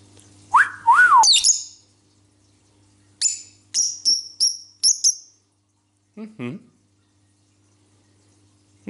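Close, loud squawking from an Agapornis lovebird at first, then a quick run of five or six sharp, high chirps, followed by a brief rough call and a pause.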